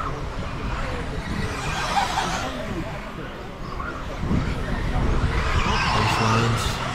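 A Schumacher Cat L1R 4wd RC car races around an outdoor club track, its electric motor whining loudly as it skids and slides through corners, with a voice talking over the engine noise throughout.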